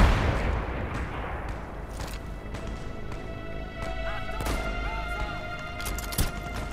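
Sniper gunfire in the World War II shooter game Brothers in Arms 3, with sharp shot cracks near 4.5 and 6.2 seconds over a steady battle rumble and faint tonal game sounds.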